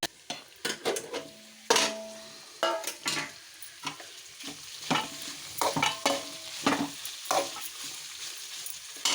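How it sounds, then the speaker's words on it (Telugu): Bottle gourd curry cooks on a low flame while a spoon stirs and scrapes the pan in repeated clattering bursts over a soft sizzle. "ఇప్పుడు సిమ్లో పెట్టి ఉడకనియాలి."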